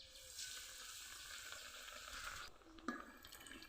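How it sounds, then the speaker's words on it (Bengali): Bread slices coated in toast-biscuit crumbs frying in oil, a soft continuous sizzle close by that drops away briefly before a small clatter and renewed frying. "এখন তেলের মধ্যে দিয়ে দিব।"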